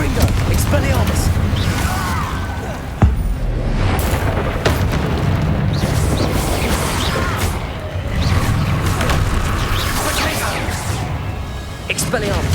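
Repeated Confringo fire-spell blasts crash and boom in a Hogwarts Legacy battle, loud impacts rolling one after another amid dense game noise, with a sharp hit near the three-second mark and voices calling out over the fighting.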